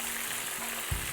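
Shredded cabbage, onion and carrot tumble into a hot pan for chicken noodle soup, setting off a steady close sizzle with a brief louder burst as the vegetables land.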